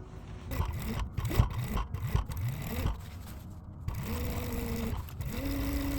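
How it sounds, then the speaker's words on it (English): A sewing machine stitches a party dress, running in short close bursts of rapid mechanical whirring with pauses between seams. "We're going to sew here, here, here, and here."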